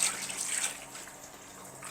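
Water pours out in a steady, close rush that eases off slightly, heard alone in a hot Kuwait setting.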